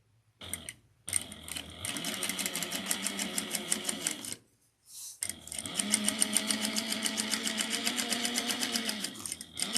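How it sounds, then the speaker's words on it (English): A sewing machine bastes a zipper onto an Etol Convertible garment at an eighth-inch seam, stitching in two steady runs of rapid, even clatter with a short pause between them. "We're going to baste this on using 1/8 of an inch."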